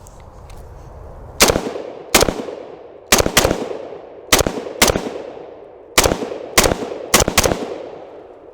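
A Century Arms VZ 2008 rifle, a VZ 58 clone, fires about ten loud, sharp shots outdoors, spaced irregularly in singles and quick pairs, each crack trailing off with a brief echo.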